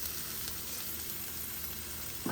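Potato upperi stir-fry cooks dry in a pan with no water added, giving a steady, even sizzle at low to moderate level throughout.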